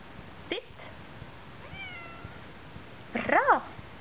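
A Burmese kitten gives a soft, faint meow partway through, then a louder, longer wavering meow near the end, close by against quiet indoor background noise.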